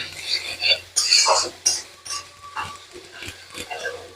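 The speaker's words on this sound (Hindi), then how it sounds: "अब इसको भूंजेंगे भूंजेंगे भूंजेंगे, टमाटर को थोड़ा गलाएंगे।" Tomatoes with turmeric are stir-fried in a pan for a chicken dry masala, with sharp scraping clatters of a spoon against the pan coming in irregular bursts, close and fairly loud.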